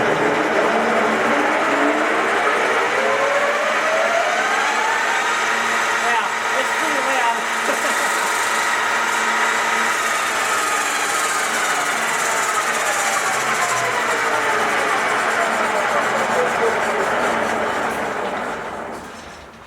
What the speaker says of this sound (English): This is a very heavy sounding machine